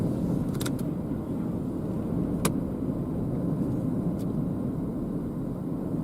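Strong wind roars steadily across the open plains of northeast Colorado during a destructive supercell storm chase, a dense, unbroken rush close to the microphone with a few faint clicks over it.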